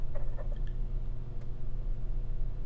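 Water poured into a jar holding a potato, with soft wet squishes and a few small drips and splashes over a low steady background hum.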